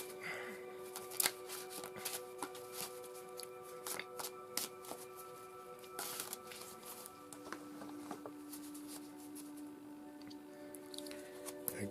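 A tarot card deck is shuffled and handled in a quiet room, giving soft, repeated riffling and flicking sounds with light taps, faint overall.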